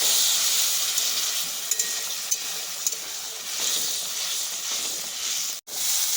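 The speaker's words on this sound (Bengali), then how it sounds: "একটু গরম জল দিয়ে আরও খানিকক্ষণ কষিয়ে নেব" Potatoes sauté in spice paste after hot water is added, a loud, continuous hissing sizzle with faint stirring scrapes and a brief dropout near the end.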